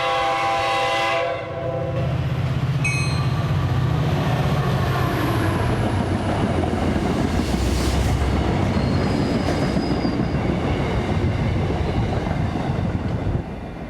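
Train rolling past outdoor seating beside the tracks in Kingston: a loud horn blast opens, then heavy wheel rumble, clattering and high squeals as the cars pass close by.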